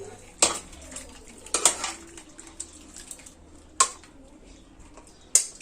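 Metal clinks and scrapes of a spoon against a cooking pan as ghee is stirred into a finished home-cooked dish, a few sharp knocks standing out over a low background hiss.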